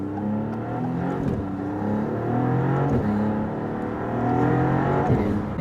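A twin-turbo V6 Maserati MC20 accelerates in Sport mode, its engine drone rising in pitch through the gears as a close, loud, continuous roar heard from inside the car.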